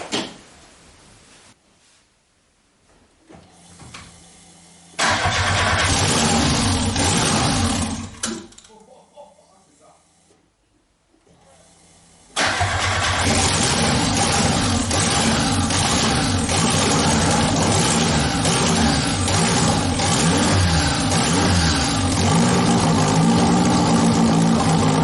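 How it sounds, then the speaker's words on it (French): Golf MK2 Turbo engine starting and idling: brief cranking bursts and a short run that dies, then the engine catches and settles into a steady, loud, continuous idle, with voices talking in between. "on va essayer de démarrer maintenant"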